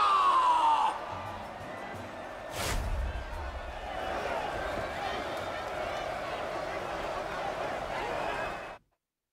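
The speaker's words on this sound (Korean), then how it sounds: "열렬한 응원의 박수 부탁드립니다." A crowd cheers and applauds at moderate distance after a sharp thud in the game Lost Ark, a continuous roar of clapping and shouts that cuts off abruptly at the end.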